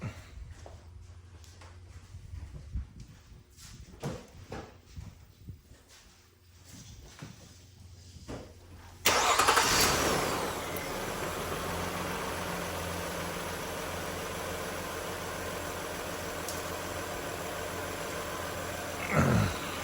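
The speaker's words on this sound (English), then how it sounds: "So let's start it up." A 2011 Nissan Murano is started in a home garage after an oil change: quiet clicks and handling sounds, then the engine cranks and catches midway and settles into a steady close idle hum that continues to the end.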